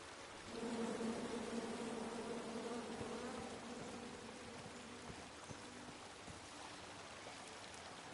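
Angry bees swarm out of a felled tree in the King's Quest video game, a steady droning buzz that holds at moderate level for several seconds with faint crackling underneath.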